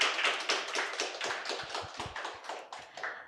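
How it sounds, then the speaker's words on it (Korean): Applause from an audience at a seminar hall: clapping that comes in slightly uneven, rhythmic pulses, fairly near and moderately loud, with no talking. "박수 한 번만 더"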